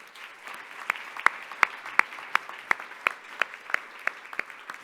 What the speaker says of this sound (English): So one more time, round of applause.